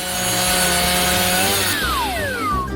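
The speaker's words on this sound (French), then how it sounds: "Alors, je vais prendre la scie." A saw rasps steadily through crisp waffles for nearly three seconds, close and loud, with a sliding whine rising in pitch partway through.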